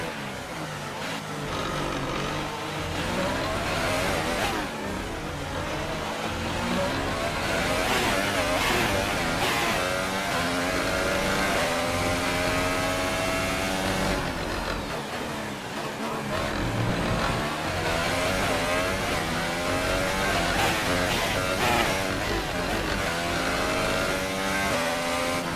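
A Formula 1 car engine in the F1 2018 racing game roars continuously with rising and falling revs and gear shifts, loud and close throughout with no talking.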